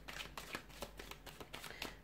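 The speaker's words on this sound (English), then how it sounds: "we'll go ahead and give the cards a shuffle" Tarot cards are shuffled in quick, soft riffles, a series of close papery flicks and slides in irregular bursts, quiet and alone without talk.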